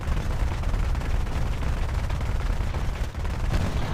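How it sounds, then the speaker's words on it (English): Tank battle in War Thunder Mobile involving main battle tanks such as a Leopard and a Turm III, with loud, dense gunfire and cannon blasts merging into a continuous roaring rumble throughout. "Just keep shooting at the same spot and eventually it will just explode."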